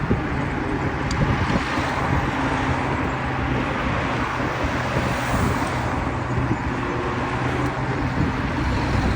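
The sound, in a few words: car driving on a mountain road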